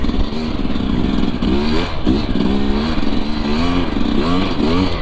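A Sherco SE 300 dirt bike churns along a trail in deep snow, its engine loud and close, revving up and down in repeated rising and falling surges with mechanical clatter underneath.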